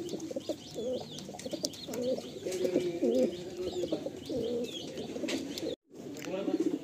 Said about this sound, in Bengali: এরপরে আর এক সেট কালো পায়রা দেখুন আপনারা